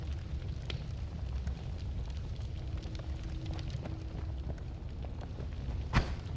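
Fire crackling and roaring in the pixel-physics wizard game Noita, a steady dense rumble with scattered pops and one sharper burst near the end, no talking.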